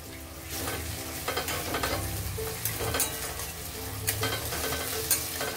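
Vegetables and tomato frying for methi rice in a pan, a continuous close sizzle broken by repeated scraping stirs of a spoon, with no voices.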